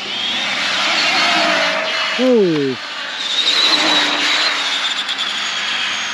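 Arrma Kraton 8S RC car driving fast on a street, its high-pitched electric whine rising and falling as it passes, with a person exclaiming over it.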